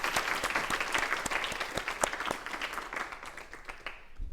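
An audience at a comedy poetry gathering gives a poet a warm welcome with dense, sustained applause, many hands clapping together at close range before the sound thins out toward the end.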